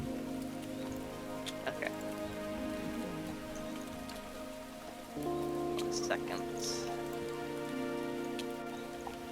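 Steady pattering rain from a Pokemon video game runs continuously under layered synth music tones, moderately quiet, with a brief spoken word and small clicks on top.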